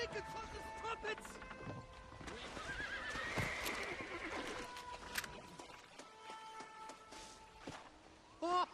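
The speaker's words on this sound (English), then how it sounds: "Oh, these horses look fresher." Horses neighing and whinnying in the Western game Red Dead Redemption, mixed with clip-clopping hooves and movement, while a voice speaks over the scene.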